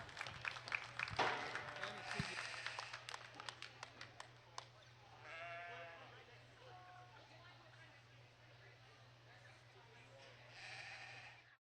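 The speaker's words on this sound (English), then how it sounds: "Let's give these exhibitors a round of applause." Applause for exhibitors at a county fair breeding sheep show rises briefly and scattered, with sheep bleating nearby and a steady low hum underneath.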